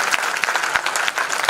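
An audience at a Hindi comic poetry recital claps briskly. The claps are sharp and distinct over a continuous clapping wash for about a second and a half.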